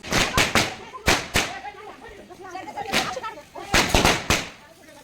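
Several sharp firecracker bangs crack off close by in quick bursts during Diwali Padwa celebrations, with people chattering between the blasts.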